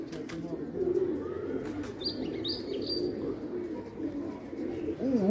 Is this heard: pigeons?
yes